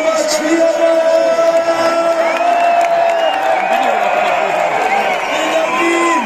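A crowd at a live concert in Vienna cheers and whoops continuously, loud and dense throughout, with a voice rising over the roar.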